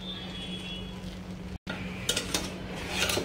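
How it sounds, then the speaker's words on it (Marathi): A spatula stirs rice flour dough in a pan over a high flame, soft scraping and occasional light metallic knocks over a steady low hum from the stove, with no talking. "तर आपल्याला उलटण्याच्या साहाय्याने आपल्याला हे पीठ असं व्यवस्थित मिक्स करून घ्यायचं आहे।"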